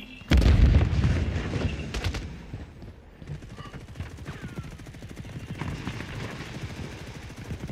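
A grenade explodes in Call of Duty Modern Warfare 3, a loud close blast that booms and rumbles away, followed by softer scattered gunfire and battle noise.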